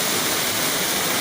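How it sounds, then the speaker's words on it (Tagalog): Salvosa Falls in Pantukan, Davao de Oro, produces a loud, dense, unbroken roar of falling water heard up close. "This is a Salvosa Falls."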